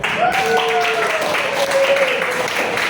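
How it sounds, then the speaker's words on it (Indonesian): Students in a classroom clap their hands together in a steady, crowded patter while voices chatter and call out over the applause. "Tepuk tangan kita."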